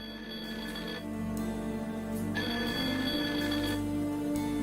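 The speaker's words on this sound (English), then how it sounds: "my phone's ringing" A phone rings in the adventure game Blackwell Unbound, a repeating electronic ring with sustained tones lasting several seconds, moderately loud and heard without speech.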